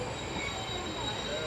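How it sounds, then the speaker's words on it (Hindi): Hazara Express arriving at Mubarakpur station, heard as a brief, fairly quiet steady rail rumble with faint wheel squeal tones and no clear talk. "मुबारकपुर रेलवे स्टेशन पर अभी अभी पहुंची है ट्रेन"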